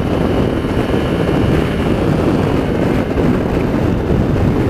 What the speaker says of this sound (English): hopefully you can hear me as windy as it is out. It's gusting about 40 miles an hour, seems like.